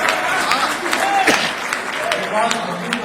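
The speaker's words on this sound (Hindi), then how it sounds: "देखो जितनी समझ में आए तालियां उतनी बजाओ" Scattered audience applause rustles through a Hindi comedy poetry gathering in Gwalior, moderately loud and uneven, mixed with a speaking voice throughout.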